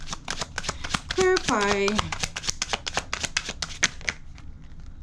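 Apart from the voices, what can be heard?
tarot cards being shuffled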